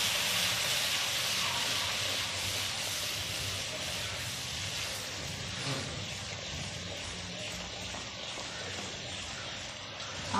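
A steady, broad hiss of meat frying with red chili powder, salt, turmeric and coriander powder for masaledaar pasandey fills the pan, continuous and fairly loud with no voices over it.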